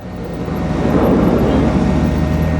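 A motorcycle accelerating during slow speed riding practice, a steady broad engine roar that builds slightly over a few seconds, fairly loud and continuous with no voices.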